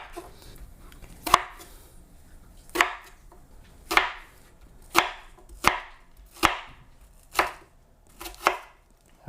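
A kitchen knife, noted as dull, chops ingredients for shish kebab on a cutting board, giving about nine sharp, evenly spaced chops close up with quiet gaps between.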